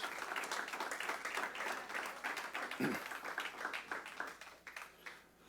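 A church congregation claps together as an offering of praise, a steady wash of many hands sustained for several seconds before fading out.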